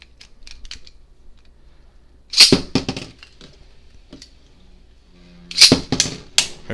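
A Beyblade ripped from its launcher in two sharp zipping bursts, each followed by rattling clicks as the top hits the stadium, with quiet ticking between launches.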